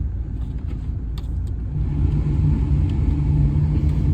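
Steady blower fan roar inside a 277,000-mile VW Golf MK5 TDI, a continuous broadband whoosh with a low hum that grows louder partway through as the fan speed rises, with no talking.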